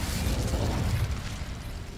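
The Incendio fire spell from the Hogwarts Legacy video game sets dry vines alight with a deep whooshing burst, then a rumbling crackle of flames that slowly eases over two seconds, with no talking.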